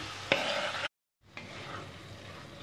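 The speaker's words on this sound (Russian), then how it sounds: "Теперь сюда я добавляю болгарский перец и помидоры." Bell peppers and tomatoes frying with pasta and meat in a pan, a soft sizzle stirred with a utensil, broken by a short silent gap before the gentle frying resumes, with no talk.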